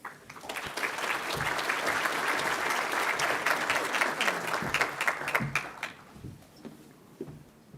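Sustained audience applause in a conference hall welcoming a speaker to the stage, a dense even wash of clapping that holds steady for several seconds before thinning out toward the end.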